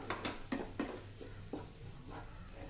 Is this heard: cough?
no